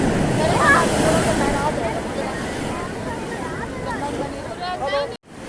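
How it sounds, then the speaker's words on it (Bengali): Large sea waves surge and crash onto Old Digha beach at night as a broad, steady roar, with voices and crowd chatter mixed in throughout. "এক একটা বেশ বড় বড় ঢেউ আসছে।"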